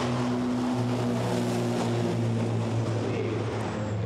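Racing trucks at a European Truck Racing Championship circuit in Hungary drone with a loud, steady engine rumble, a dense low hum holding constant throughout with no distinct pass-bys.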